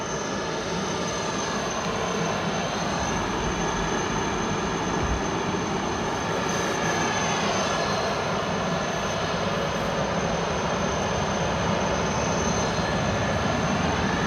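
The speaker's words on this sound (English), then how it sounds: "And the A340 is taxiing." Airbus A340 taxiing at Frankfurt Airport in frosty de-icing conditions, a steady sustained jet engine whine and broad rumble continuing throughout at moderate distance, with a constant high tone over it and no talk.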